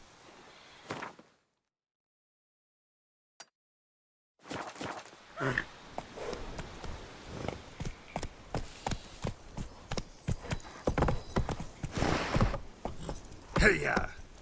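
Hooves of Roach, the horse in The Witcher 3 on PC, clip-clop in a steady walking rhythm after a short silence, close and moderately loud amid game ambience.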